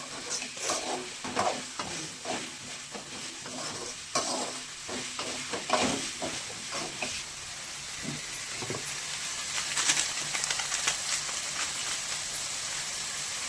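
Tomatoes sauté in a pan as the base of a potato gravy, giving a steady close sizzle with repeated scraping stirs and spatula knocks, and a hissing steam that swells near the end.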